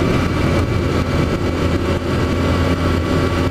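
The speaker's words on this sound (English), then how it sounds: "This engine runs like a top." A 2007 Kawasaki ZX10R sport bike with about 27,000 miles runs steadily close by, a continuous low engine drone with no talking over it.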